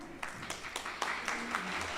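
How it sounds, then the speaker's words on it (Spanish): An audience at a literary festival applauds a speaker, starting with a few separate, distinct claps that swell into steady clapping, with some faint voices underneath. "Un aplauso para Teófilo."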